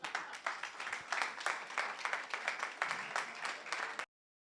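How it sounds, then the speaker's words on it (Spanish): Audience applause at an energy seminar, a steady round of many hands clapping that fills about four seconds at moderate volume, then stops abruptly. "El aplauso."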